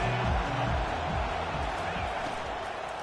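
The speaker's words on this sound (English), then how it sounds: "This crowd trying to make life miserable for this offense." A stadium crowd at a Miami vs UGA college football game roars as a steady, loud, unbroken wall of noise, with an announcer's voice faintly under the din.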